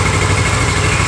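A Harley Davidson motorcycle with a heavily modified exhaust idles, a loud, close, steady low rumble with a continuous throaty drone.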